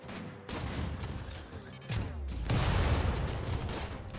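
Automated defensive turrets in the video game RimWorld fire rapid bursts at raiders, a dense continuous crackle of gunfire with heavier impacts swelling midway, loud and close.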